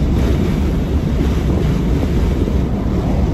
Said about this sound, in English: Yeah, that's a lot of wind.